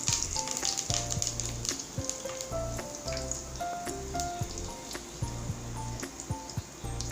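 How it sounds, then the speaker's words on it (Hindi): Curry leaves crackle and sizzle in hot oil, a soft, spitting fry with scattered pops, faint beneath background music. "और ये थोड़े से कड़ी पत्ते हैं, ये भी हम इसमें डाल रहे हैं।"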